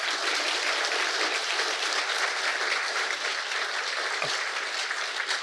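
An audience at a games academy awards expo applauds the staff, a dense, even wash of clapping from a large crowd that holds steady throughout.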